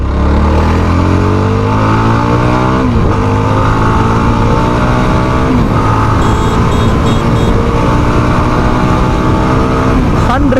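A Yezdi Scrambler motorcycle engine accelerates hard through the gears, giving a loud, close roar that rises in pitch, dips at each shift and climbs again, with wind rush mixed in.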